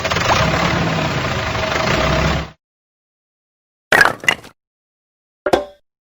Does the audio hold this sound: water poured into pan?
no